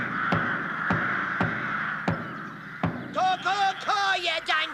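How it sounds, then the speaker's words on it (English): Pesky crows cawing in a series of harsh calls, several single caws spaced a second apart at first, then a rapid burst of overlapping calls near the end, loud and close. "I never did like you pesky birds neither."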